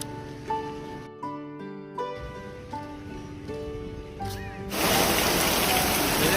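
Heavy village rain suddenly bursts in as a loud, dense hiss of pouring water after a few seconds of sustained melodic tones, then continues strongly to the end.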